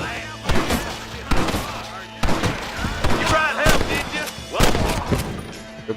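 Gunfire in a Red Dead Redemption shootout: several sharp, loud shots scattered across the clip with echoing tails, mixed with game sound and someone talking.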